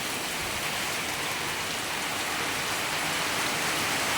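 Steady rain pours down in a dense, even hiss that fills the whole stretch, with no voices or other sounds breaking through.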